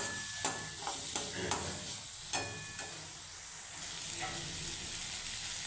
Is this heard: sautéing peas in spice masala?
yes